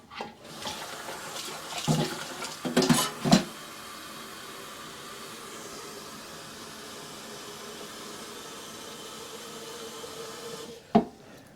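Warm water runs from a tap over grated coconut being washed, with a few clattering knocks early on, then a steady soft stream of running water and a final sharp knock.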